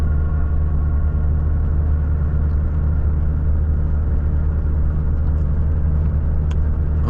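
A Volvo FH 540 truck engine under light throttle hums as a steady, loud low-pitched drone with constant road rumble and no change in pitch.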